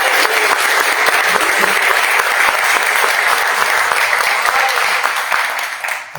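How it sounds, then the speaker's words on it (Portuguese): An evangelical church congregation applauding during a service, sustained loud clapping from a crowd throughout that tapers off at the very end. "você pode aplaudir a Deus pela vida do seu pastor?"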